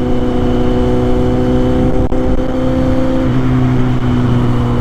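A Kawasaki Z800 motorcycle cruising on a ride to the beach: a loud, continuous engine drone with a brief dip as the pitch shifts, steady throughout and free of speech.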